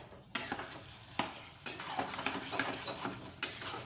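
Taro greens (kochu shak) with chickpeas are stir-fried in a pan, a soft sizzle under repeated sharp spatula scrapes and clinks against the metal, close and fairly quiet.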